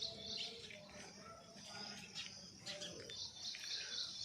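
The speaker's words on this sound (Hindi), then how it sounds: "चिड़िया कुछ मांग रही है" Small birds chirp and tweet in short repeated calls near a rooftop at home, with faint insect buzzing and quiet background noise around them.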